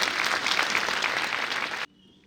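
An audience at a youth gathering in Gyumri claps together in a dense, even burst of applause that stops abruptly, leaving near silence.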